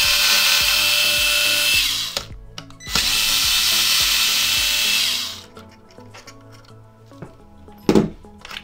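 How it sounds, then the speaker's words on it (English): An electric screwdriver with a T9 bit backs out the USB port screws on an Xbox One X console, two sustained high whirring bursts separated by a short pause, then quieter clicks and a sharp handling knock near the end. "we're gonna unscrew these two USB port screws"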